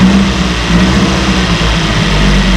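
A 1968 Evinrude 18 hp Fastwin outboard motor runs loud and close, a steady, dense low drone idling evenly throughout without talk.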